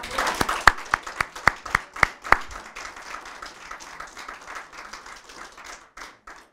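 Audience applause at a legal-competition closing and prize-giving ceremony: a few sharp, separate claps rise into a brief ragged burst, then fade to scattered, quieter clapping.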